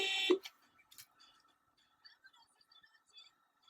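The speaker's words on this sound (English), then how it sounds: "Let me honk one more time" A single short car horn honk blares at the start, then near silence with a few faint scattered noises.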